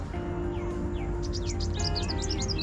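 Birds chirp and trill in short rising and falling calls at a dam in a quiet valley, heard over a steady low background hum.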